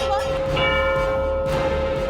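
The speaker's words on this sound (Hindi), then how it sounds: "अरे घड़ी का घंटा बंद नहीं हो रहा।" A wall clock's bell chimes on and on, a sustained ringing tone with repeated strikes inside a home, over a noisy indoor background.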